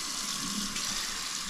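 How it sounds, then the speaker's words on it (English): Cold water runs steadily from a kitchen tap into a sink, a constant close hiss and splash with no pauses or talk. "I'm gonna let the cold water run"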